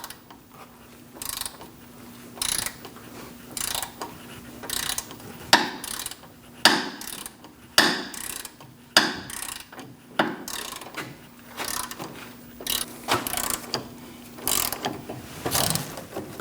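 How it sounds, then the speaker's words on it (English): Repeated ratchet clicking from a 16mm socket breaking loose ball joint bolts on a 2000-2006 Mini Cooper, heard as bursts of sharp close-up clicks with short pauses, no talk. "Using a 16mm socket, we're going to break free these bolts and remove them."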